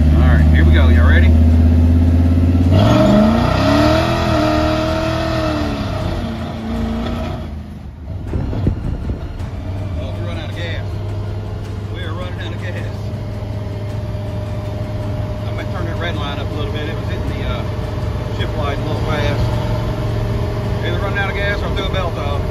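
Car engine in a vehicle nicknamed Candy Kane, first rising in pitch as it revs and accelerates, then settling into a steady drone with passing traffic, under talk throughout.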